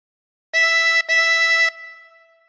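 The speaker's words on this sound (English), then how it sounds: "And breathe in through four." Two loud drawn harmonica notes on hole four, the first about half a second and the second slightly longer after a tiny break, then a soft fading ring, heard alone.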